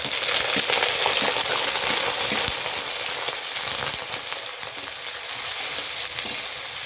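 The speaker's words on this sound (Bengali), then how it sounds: "এই পেঁয়াজ রসুনটাকে এখন ভালোভাবে আমি গোল্ডেন কালার পর্যন্ত ফ্রাই করে নেব" Chopped onion and garlic frying in a pan with a dried red chilli, bay leaf and cumin, a loud, dense, continuous hiss of oil with occasional soft stirring scrapes.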